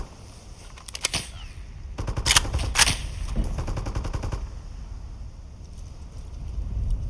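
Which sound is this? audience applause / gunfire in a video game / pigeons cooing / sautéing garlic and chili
gunfire in a video game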